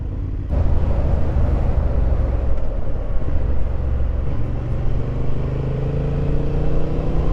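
A 2023 Honda Hornet motorcycle engine while riding, a steady low droning rumble held at an even level throughout, with continuous road and wind noise and no talking.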